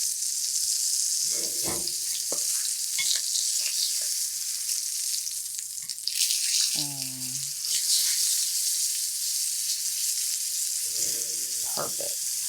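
Salmon frying skin-side down in a pan gives a loud, constant hiss of sizzling oil close up, with a few brief voices and light scrapes heard over it.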